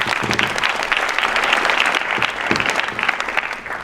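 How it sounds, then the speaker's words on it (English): Audience applause at the Pandava Sena 25th anniversary celebration, a loud, dense burst of many hands clapping that holds steady throughout with no talking over it. "big round of applause for them"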